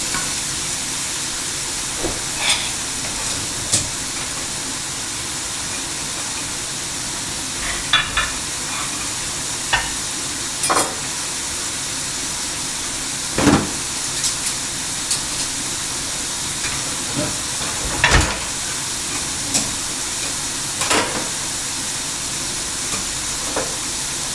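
Sliced zucchini fries in a cast iron pan with a continuous steady sizzle and hiss, broken by occasional sharp scrapes and clacks as it is stirred, heard close with no talk.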